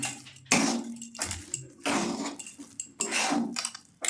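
A pot of milk kheer with cardamom powder is stirred, giving repeated scraping, sloshing strokes of a spoon against the metal pot in uneven bursts, close and moderately loud.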